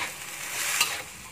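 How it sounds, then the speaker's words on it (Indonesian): Capcay vegetables sizzle in a hot pan as they are stirred, a bright continuous frying hiss with a scrape of the utensil near the end, close up and with no talking. "Aduk rata ya."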